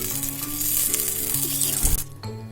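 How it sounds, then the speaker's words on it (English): Butter and a teaspoon of oil sizzle loudly and steadily in a pan for kadai paneer, a close, bright frying hiss that breaks off abruptly near the end and then briefly returns. "Now this is butter in a pan. Add 1 teaspoon of oil."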